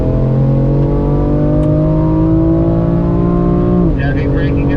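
A BMW M4 engine revs hard on a race track at a driving school, a loud, close, sustained drone that climbs steadily in pitch before easing off near the end.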